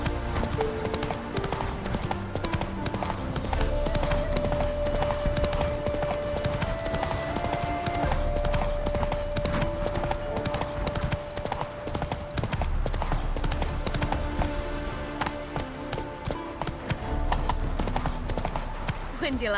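Horse hooves clip-clopping at a steady trot in The Witcher 3, rhythmic close hoofbeats under game music, with characters talking over them.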